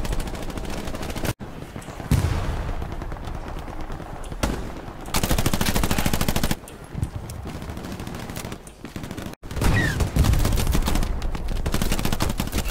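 Battlefield video game combat with heavy sustained automatic gunfire, long loud bursts broken by brief sharp gaps and cutoffs, dense and close throughout.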